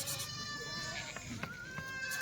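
Large Kathiawari sheep bleating amid a noisy flock, several overlapping calls close by, with people talking underneath.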